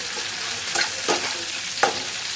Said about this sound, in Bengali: পেঁয়াজটা একটু ভাজা ভাজা করি।